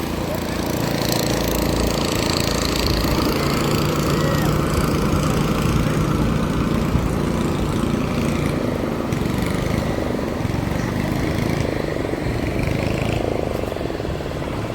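A tractor engine running on the sand at Kovalam beach in Chennai, a steady close rumble of motor noise lasting throughout, with people talking over it and wind and crowd noise mixed in.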